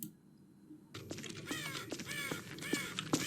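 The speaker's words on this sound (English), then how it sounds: "There are some ambient sounds. I can hear crows" Crows caw repeatedly in a video game's ambient soundscape, the harsh calls starting after a quiet opening and recurring at fairly close range over a steady background hiss.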